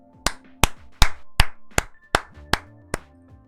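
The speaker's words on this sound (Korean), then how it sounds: "먼저 어쨌거나 박수 한번 치고 시작하도록 하겠습니다" A single person clapping hands eight times in a slow, slightly uneven rhythm, each clap sharp and close in an otherwise quiet room, with faint background tones and no talk.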